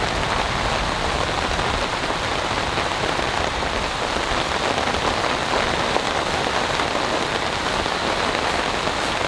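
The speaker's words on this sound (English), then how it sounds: "This is definitely a wind-blown rain," Heavy wind-blown rain during a storm at a campsite, pounding steadily and loudly on surfaces as a dense, unbroken hiss with no voices.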